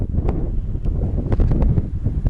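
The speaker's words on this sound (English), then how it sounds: "it's quite windy" Steady desert wind in Joshua Tree National Park buffets the microphone, a loud continuous roar with gusty rumbling throughout and no voices.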